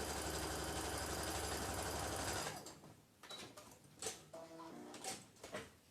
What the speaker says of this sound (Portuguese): Vou costurar um lado. Alinhando bem certinho os dois tecidos.